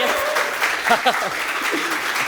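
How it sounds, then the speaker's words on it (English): Audience applause at a generative AI summit workshop, a steady wash of many hands clapping close by for the whole stretch, with voices mixed in. "let's have a round of applause for Marilee"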